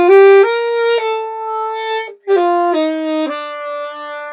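An alto saxophone plays the opening phrase of a song alone: a clear, close melody of sustained notes stepping downward, then a short breath pause and a second descending run that ends on a held low note.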